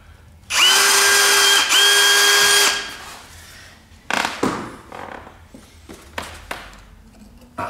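A cordless drill whirs loudly and close for about two seconds with a brief dip in pitch, followed by a few knocks and taps, during a pipe organ restoration.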